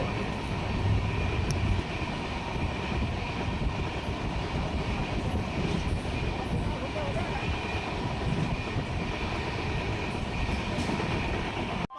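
A passenger train on the line out of Howrah toward Dhanbad Junction runs at speed, heard from inside the carriage as a loud, steady rumble and roar that continues unbroken from start to finish.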